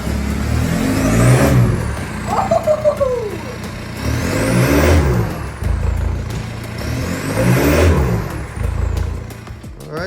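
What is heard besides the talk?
VW Mk4 Jetta TDI engine revving after turbo change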